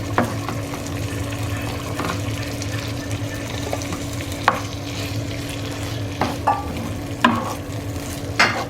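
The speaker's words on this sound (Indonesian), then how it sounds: "langsung masukkan ati ampelanya" Chicken liver and gizzard tossed into a pan for balado, frying with a steady sizzle while a utensil stirs, scraping and clinking several times near the end.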